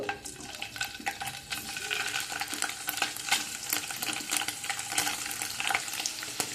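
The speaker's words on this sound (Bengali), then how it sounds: "পনিরগুলো দিয়ে আমি একটু ভেজে নেব।" Paneer pieces fry in hot white oil in a kadai on a gas stove, with a close, crackling sizzle and spattering pops along with stirring and scraping noises, continuous throughout.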